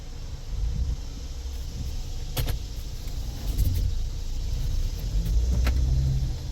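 A Ford Escape rolls up a street, heard from inside as a steady low engine and road rumble. A few faint clicks and rattles sit over the drone, and nobody speaks.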